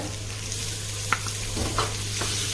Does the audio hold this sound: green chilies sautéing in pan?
yes